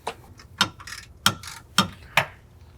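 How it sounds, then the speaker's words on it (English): M14 triple-square socket on a 1/2 inch ratchet loosening rear brake bolts on a 2022 VW Golf R Mk8, several close, crisp ratcheting clicks in short evenly spaced bursts, with no voices. "We have it on a 1/2 inch ratchet here for leverage ease."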